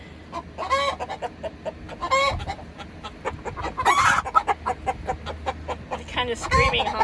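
Young Brahma chickens give goose-like honking calls alongside other hens, bursts of loud, harsh honks and clucks recurring every couple of seconds over a busy background of chatter.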